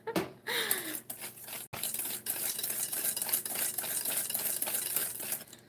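A whisk creams softened butter for oatmeal raisin cookie dough in a bowl, producing a continuous close scraping and clattering stir with rhythmic metallic ticks against the bowl.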